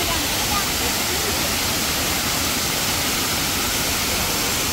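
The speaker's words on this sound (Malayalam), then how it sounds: "നമ്മളിപ്പോൾ വളഞ്ഞെങ്ങാനം വാട്ടർഫാൾസ് കാണിക്കുന്നുണ്ട്." Valanjanganam waterfall flowing with low water, a steady broadband rush of falling water filling the whole clip at moderate level.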